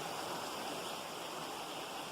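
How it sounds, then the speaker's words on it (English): A creek spills into a large pool about seven feet deep off Bear Mountain on the Appalachian Trail, producing a steady, close rushing wash of water that holds even and unbroken throughout, with no voices. "But this creek formed a huge pool"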